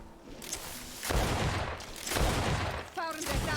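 Gunfire from the video game Greedfall comes in several heavy, booming volleys that swell and overlap, loud and close, with a brief ringing tone near the end.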